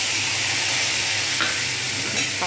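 Ginger, garlic, coriander and mint paste fries in hot oil in a pan, giving a steady close sizzle with faint scraping of a spoon, and no talk.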